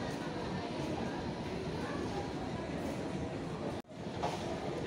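A Chennai Metro train pulls away from an elevated station, a steady broadband rumble and rush of wheels and air filling the platform, briefly cutting out near the end.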